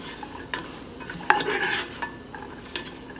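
Onion, garlic and leeks sautéing in a pot for an Irish stout beef stew, with a steady low sizzle and a few close scrapes and clinks of a spoon against the pot.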